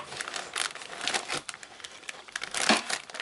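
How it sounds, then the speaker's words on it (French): Paper crinkling and rustling as an envelope is emptied, close and fairly soft, with irregular crackly bursts throughout. "Donc, je vais vider l'enveloppe."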